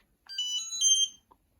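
An electronic buzzer from an inventor kit gives a single clear, shrill tone lasting about a second, loud and alone in otherwise quiet surroundings.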